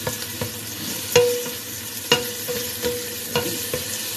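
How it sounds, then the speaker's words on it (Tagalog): Chicken sizzles steadily in a small hot pot, with occasional sharp clinks and scrapes of a utensil stirring every second or so. "Igisa ko yung manok hanggang matuyo yung tubig-tubig niya."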